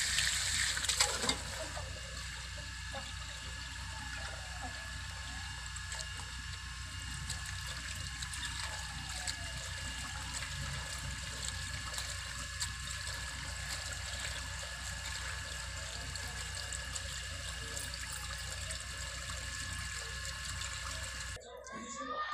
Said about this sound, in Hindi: अब हमारा साग जो है हम इसे अच्छी तरह से धो लेंगे।